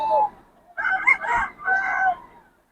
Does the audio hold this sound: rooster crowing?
yes